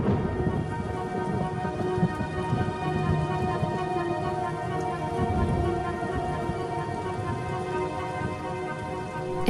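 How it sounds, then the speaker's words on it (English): Heavy rain pours down in a steady, dense torrent with a constant hiss and patter of drops, loud and unbroken throughout, with low rumbling underneath. "the rains continue to fall in a ceaseless torrent"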